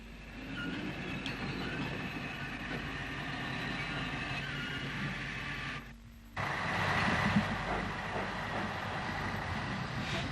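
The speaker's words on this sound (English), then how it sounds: "The other Sligo tank, the now preserved number 27 Lochern, heads for the shed" The preserved Sligo tank steam locomotive number 27 Lochern rumbles steadily toward the shed, a continuous loud mechanical roar with a brief dip near the end before resuming.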